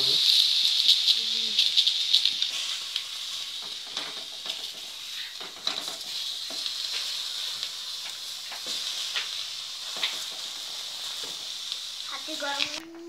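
A steady hiss of steam from eggplant cooking in a covered pan runs throughout, with occasional soft clinks and a brief voice near the start and end.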